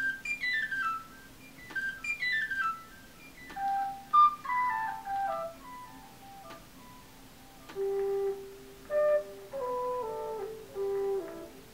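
Classical record sample at its original pitch, before being pitched down, plays high flute-like notes in quick descending runs followed by a few held tones, clear and unaccompanied.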